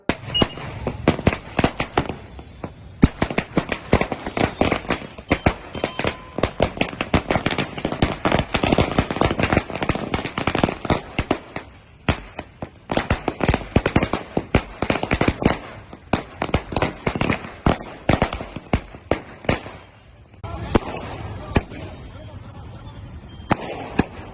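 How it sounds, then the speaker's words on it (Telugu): Dense strings of firecrackers burst during a political victory celebration by party workers, with rapid crackling volleys, brief pauses and a last flurry, loud and close, while voices are heard among the bangs. "బాణసంచాలు కాల్చి ఘన సంబరాలు జరుపుకున్నారు"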